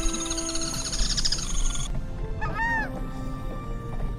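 Wetland birds in the Iberá marshes call in a dense chorus of honking and whistling tones, with a few clear near calls standing out over a busy outdoor background.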